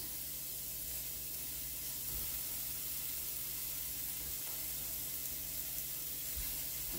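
Soy chorizo squeezed from its plastic casing into a hot pan, giving a steady, even hiss and sizzle throughout with no talking.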